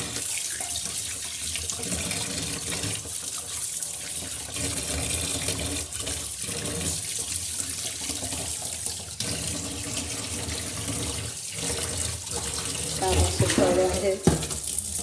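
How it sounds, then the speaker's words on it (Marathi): Tap water running steadily into a sink while fresh Bombay duck and mackerel are washed, a continuous close splash with handling sounds and a louder burst near the end. "हे छान असे धुतले आहेत"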